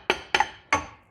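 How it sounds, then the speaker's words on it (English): A hammer strikes a stuck brake drum three times to knock it off, sharp ringing clanks with brief metallic decay, close and fairly quiet. "sometimes it's kind of stiff and you may need a hammer"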